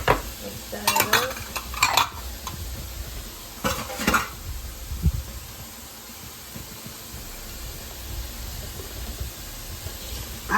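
A spoon scrapes and clanks through a buffalo chicken pasta mixture with Louisiana-style Crystal hot sauce, a few sharp knocks early on, then quiet stirring over a faint steady hiss.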